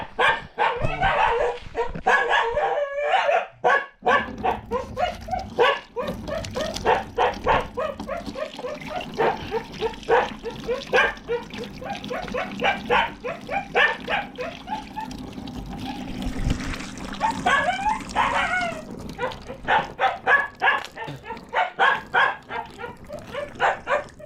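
A dog barks over and over, loud and close, with yips and bursts of barking and running water under it for much of the time.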